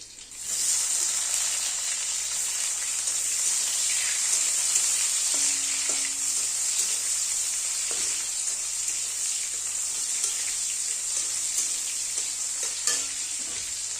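Chopped tomato sizzles steadily in hot oil for ghugni, a continuous close frying hiss with a few faint stirring clinks and no talk.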